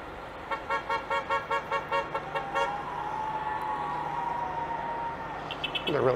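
Car horns honk in a rapid series of short repeated toots on a Saturday street in Toronto's Little Portugal along Dundas West, near a wedding, followed by steady traffic rumble and a brief sharp tone at the end.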